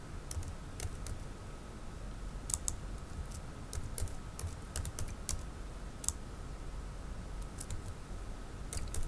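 Computer keyboard keys tapped in short bursts while entering a chart title in Microsoft Excel, with crisp, quiet clicks close by, separated by pauses, no speech.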